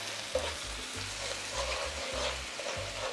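Onion and dill fry in a pan with a steady sizzle. Occasional stirring knocks cut through it over a low rhythmic hum. The sound is close and moderately loud, with no voices.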